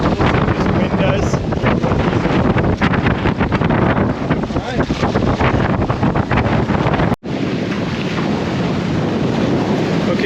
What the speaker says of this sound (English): We'll see what this wind does.